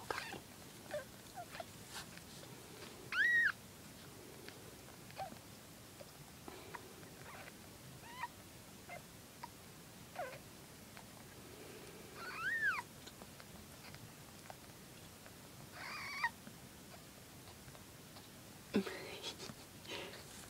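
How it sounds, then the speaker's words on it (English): Newborn kittens give thin, high little mews scattered across a quiet room, a few faint squeaks and brief cries spaced seconds apart, with soft whispery background sounds. "He's hearing all the little mews and he doesn't know what to think."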